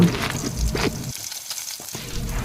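Nigella seeds and slit green chillies hitting hot oil for a Bengali katla fish kasan make a loud, close hiss and sizzle that drops off briefly and then picks back up.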